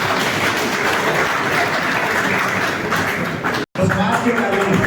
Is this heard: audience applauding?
yes